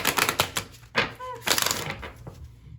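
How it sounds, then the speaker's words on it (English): A new card deck with gilded edges is riffle shuffled, giving close, rapid fluttering clicks in several short bursts, with brief taps between them. "Let's see how it riffle shuffles because I'm a riffle shuffler."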